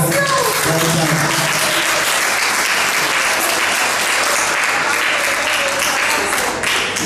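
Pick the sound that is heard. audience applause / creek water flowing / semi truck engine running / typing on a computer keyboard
audience applause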